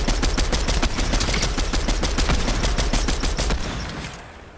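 Rapid, dense bursts of gunfire from a video game shooter rattle continuously for several seconds, loud and close, then tail off at the end.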